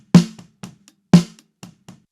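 A snare drum close-miked with a Shure 517: two loud cracking hits, each followed by softer ghost strokes, repeating in a steady pattern with nothing else playing.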